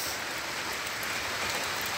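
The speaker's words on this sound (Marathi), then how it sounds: "तो चालू आहे झिमझिम झिमझिम पाऊस" Light drizzle patters steadily and evenly, a soft continuous hiss of fine raindrops with no other sounds.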